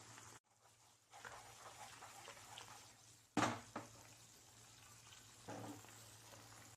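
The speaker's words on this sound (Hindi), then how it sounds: "इसके ऊपर लिड बंद करके 2 या 3 मिनट के लिए लो फ्लेम पे पका लें, ताकि जो सॉस है मछली के अंदर तक एंटर हो सके" Fish frying gently in a buttery lemon pepper sauce on a low flame under a lid, with a soft, steady sizzle, one sharp clatter of a pan or lid midway and a brief louder crackle near the end.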